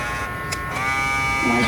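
An electric coffee and milk frother runs with a steady, high buzzing whir that rises slightly in pitch toward the end, close and fairly loud.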